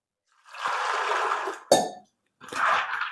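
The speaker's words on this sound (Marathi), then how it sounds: "ते आता छान असे धुवून घेऊ आपण पाण्याने" Splashing and sloshing of water as 250 grams of raw peanuts are washed by hand, in two short bursts separated by a brief pause and a sharp clink.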